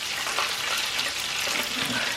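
Chicken fries deep frying in a pan of oil give off a steady, dense sizzle with fine crackles throughout, close and moderately loud, with no talking.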